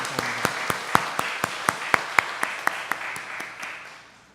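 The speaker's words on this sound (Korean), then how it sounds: "수고하시는 우리 성가대원들, 특별히 청년들을 위해서 한번 우리 감사로 박수해 주시면 고맙겠습니다." A church congregation at a Korean thanksgiving service claps in thanks for the choir, producing steady rhythmic claps in near unison, about four per second, moderately quiet, then fading toward the end.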